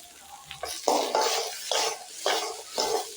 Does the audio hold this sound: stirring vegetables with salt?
yes